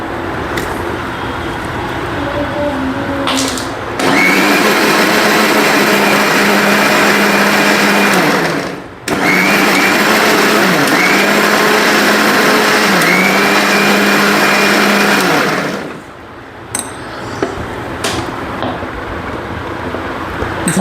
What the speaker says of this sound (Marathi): आपण हे मिश्रण आता मिक्सरला फिरून घेऊ